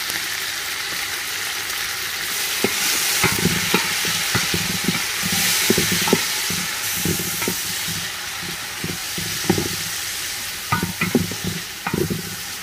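Chopped tomatoes and green chillies frying with golden onions in a pot: a steady loud sizzle and hiss, with repeated clanks and scrapes of a spoon stirring, close by and without talk.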